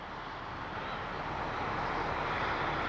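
An E-flite Piper Cherokee RC airplane glides overhead with landing flaps deployed, a steady broadband whoosh of motor and wind that swells slightly, with no voices.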